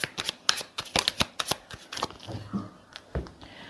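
Tarot deck shuffled by hand, a fast run of crisp card riffles and slaps with an uneven rhythm, close and fairly quiet, with no talking.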